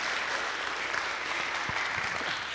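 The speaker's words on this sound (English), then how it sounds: "Clap." An audience at a spring music recital claps steadily, a thick continuous patter of many hands at moderate distance, with a few soft low thumps near the end.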